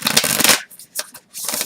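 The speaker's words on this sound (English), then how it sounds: "So I'm going to give this a few more shuffles, and then I'm going to cut it into 3." Tarot cards shuffled by hand in close, loud bursts of riffling and slapping, with a short pause and a brief flick between two longer shuffling passages.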